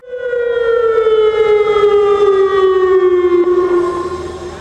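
A civil protection warning siren for chemical risk sounds during a test, a loud, steady wailing tone with rich harmonics that slowly falls in pitch and fades slightly at the end, with no talk.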